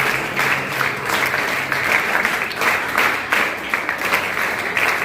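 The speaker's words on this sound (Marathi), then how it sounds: "यांच्यासाठी जोरदार टाळ्या." Loud, dense applause from an audience gathered around schoolchildren, a steady wash of many hands clapping that holds at full strength for about five seconds without a break.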